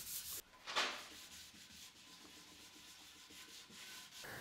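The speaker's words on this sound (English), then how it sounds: "gave it a 500 grit sanding in between coats" Soft, steady rubbing of 500-grit sandpaper over a finished wooden shelf between coats, close and quiet, in continuous back-and-forth strokes.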